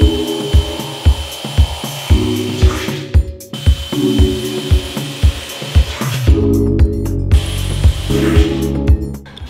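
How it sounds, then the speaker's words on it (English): Steel car firewall being drilled through for spot weld holes, with repeated short bursts of a power drill biting metal, loud and close, each burst separated by brief pauses. "I'll start drilling out all the holes for all the spot welds"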